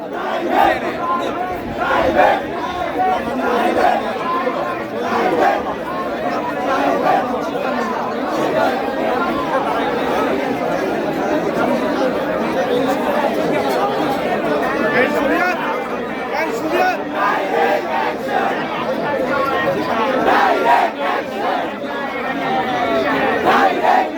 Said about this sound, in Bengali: তারা বিভিন্ন স্লোগান এবং প্রাইভেট প্রাইভেট বলে স্লোগান দিচ্ছে